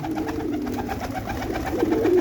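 Flying pigeons of mixed colours cooing together in a loft, a continuous low throaty warble from several birds close by, with no talking.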